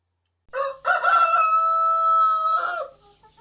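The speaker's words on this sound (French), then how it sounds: "Et aussitôt, un coq chanta." A rooster crows once, loud and close: a short opening note, then a long sustained call that tapers off, alone with no talk.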